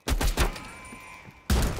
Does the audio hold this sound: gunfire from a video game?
yes